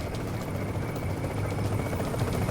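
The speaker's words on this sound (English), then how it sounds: "And here comes the helicopter." A helicopter arriving in the video game Tom Clancy's The Division, a steady low rotor thump and drone, continuous and moderately close, with no voices over it.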